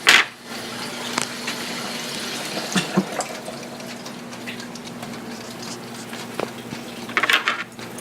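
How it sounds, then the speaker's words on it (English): A kitchen tap runs water steadily into a sink at home while a meal is made in an air fryer, a constant hiss with a few louder splashes and clunks at the start and end. "turn off that water"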